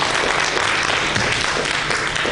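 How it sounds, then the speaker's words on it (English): Steady applause from an audience at a talk in the Schomburg Library in New York, dense and even throughout, with no voices over it. "Nana, our Queen Mother, Camille Yarborough, an acknowledgement and round of applause."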